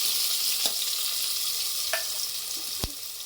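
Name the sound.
onions frying in a pressure cooker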